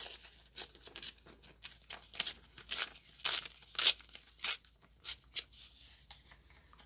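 Paper from an altered window envelope being cut and handled up close, a series of short crisp snips and crinkles at an uneven rhythm, fairly quiet, with no talking.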